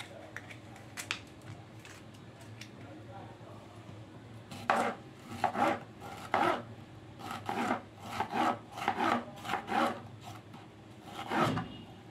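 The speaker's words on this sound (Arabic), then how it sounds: "نقطع بقى الكمية بتاعتنا كلها، حابين نقطعها شرايح بالشكل ده" A knife chops colored bell peppers into slices on a board, giving a run of sharp, close, evenly paced cuts, faint and scattered at first, then a steady series of crisp chops.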